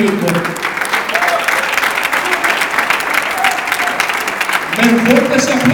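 Loud, dense applause fills a church as the congregation honors the Charlotte, North Carolina church team placing third in a Bible contest, with a few voices rising over the steady clapping.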